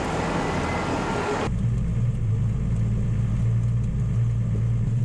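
Unimog truck rumbling slowly along a rough Moroccan dirt track, a loud steady low engine drone heard from inside the cab after a brief burst of broadband rattle at the start.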